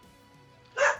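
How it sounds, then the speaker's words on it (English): A pet dog named Forest gives one sharp, loud bark close by in a quiet room, bursting out near the end after a low, steady hush. "Sorry about the dog."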